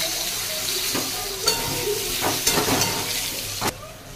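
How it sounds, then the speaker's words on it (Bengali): Potatoes fry in hot oil with black cumin (nigella) seeds, a steady close sizzle under several scraping strokes of a spatula stirring the pan. "এবার এই আলুগুলো দিয়ে ভেজে নেব।"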